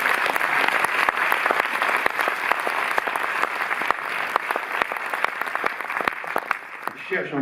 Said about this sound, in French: Vous pouvez même l'applaudir.